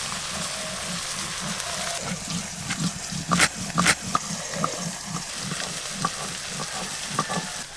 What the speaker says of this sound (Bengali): মাছটাই দিয়ে ভাজা হতে থাক